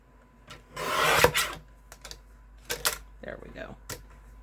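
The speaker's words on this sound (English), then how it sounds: "I think we're going to cut this down to 1/2 inch so it's not so wide." Scissors or a blade trimming a paper strip to half an inch wide for a hexagon paper butterfly card, a loud dry rasping cut lasting about a second, followed by a few shorter scraping and rustling paper sounds.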